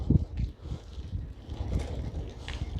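Low, buffeting rumbles of wind hit a phone microphone in uneven gusts while riding a rough road, muffled and close, with no other clear sound.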